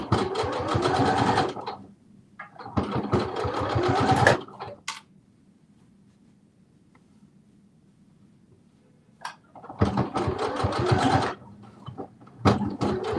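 A home sewing machine stitches a pocket onto a garment in two long steady runs of rapid needle chatter, close and loud, separated by a quiet pause with a faint hum.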